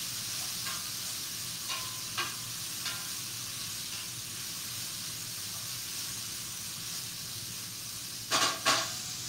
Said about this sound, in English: Now I'm going to let that saute until the onions start to get translucent